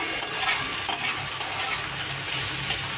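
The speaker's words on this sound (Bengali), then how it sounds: "কুচিয়ে রাখা পেঁয়াজগুলো দিয়ে আমি একটু আলুর সাথে মিশিয়ে, পেঁয়াজগুলো একটু ভাজা ভাজা হবে" Chopped onions frying with potatoes for kabli chana ghugni, a continuous bright sizzle with a few sharp stirring scrapes, close and alone.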